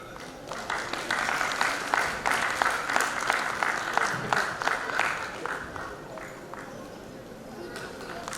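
Audience applause fills a Diamond Jubilee celebration for the 75th Corps Day, with sustained crowd clapping that thins out toward the end while an announcer's voice carries over it.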